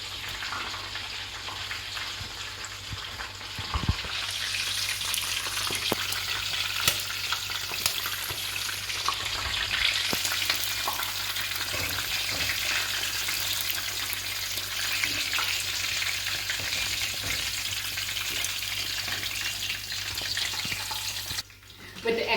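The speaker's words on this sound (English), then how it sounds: "We'll let it fry for 5 more minutes and then we'll take it off." Chicken frying in oil Trinidadian style, a long even sizzle with scattered crackles and pops, moderately close and steady, ending in a brief clatter near the close; no one speaks.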